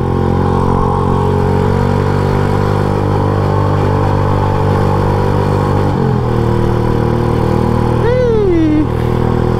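A classic motorcycle engine hums steadily and close up while being ridden on a road, its tone shifting as the rider slows to brake, with a brief rising squeal near the end.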